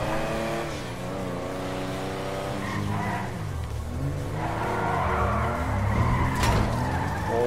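A car driving in GTA Online: a steady engine drone with gear-shift pitch sweeps and a tyre squeal near the end, and no talking.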